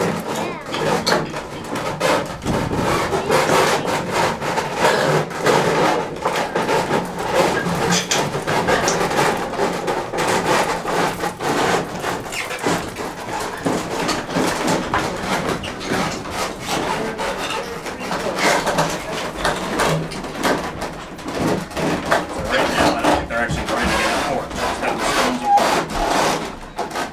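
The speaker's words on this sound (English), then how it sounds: "See the corn is starting to flow a little bit in here. So that's turning the stone." Old windmill on Nantucket with its millstone turning and grinding corn, a steady rumbling, scraping drone throughout, with people talking over it.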